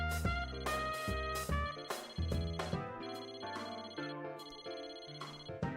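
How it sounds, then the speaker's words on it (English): A cell phone ringtone rings within Persona 4 Arena Ultimax on PS5, a steady melodic electronic tune repeating its chiming phrases continuously and clearly, with no voices over it. "The phone is still ringing."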